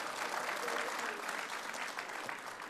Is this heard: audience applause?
yes